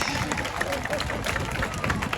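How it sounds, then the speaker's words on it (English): Crowd clapping for a horse race heat winner at the Lincolnshire Show, a brief burst of scattered applause and cheering under a loud commentator's voice. "Give him a round of applause."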